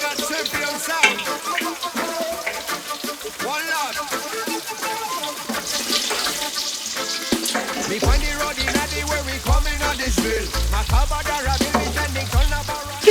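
A gram flour batter snack with thinly cut vegetables fries in a pan with a steady, close crackling sizzle, while a low deeper rumble joins in during the second half.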